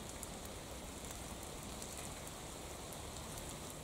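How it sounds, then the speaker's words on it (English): Steady, dense hiss of heavy rain falling on surfaces, constant and enveloping with no other sounds. "It is raining fairly heavily right now."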